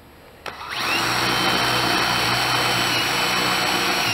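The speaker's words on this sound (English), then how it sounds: "I'm also going to drill a hole right here in the corner so I can put paracord right there" A power drill bores a hole into a rat trap, a sharp click and then a loud steady high whine that holds on close up.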